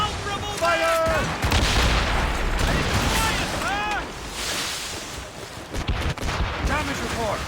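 Naval cannons boom in a broadside from sailing warships in Assassin's Creed Rogue, heavy and rumbling beneath wind, sea spray and waves. Shouted crew voices come over the top.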